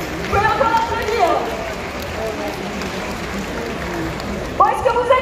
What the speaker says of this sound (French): Vous pouvez encore applaudir très très fort